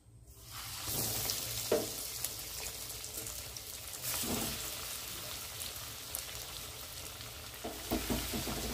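Chicken cutlets fry in hot oil with a steady close sizzle that rises after a quiet start, punctuated by occasional louder crackles and bursts.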